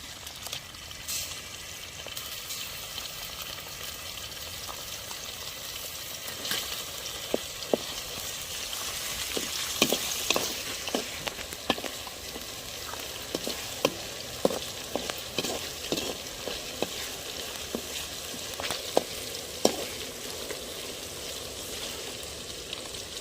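Green chilies and ginger garlic paste fry in a pan, a constant close sizzle broken by scattered clicks and scraping taps of stirring, with no voices.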